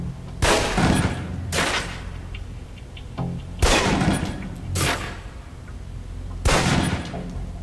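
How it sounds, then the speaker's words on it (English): Pistol shots ring out at a shooting-range target in the video game Alpha Protocol: five sharp, loud cracks in uneven spacing, each with a short ringing tail, and no voices. "Equip the pistol, then aim down range and take some shots at the target."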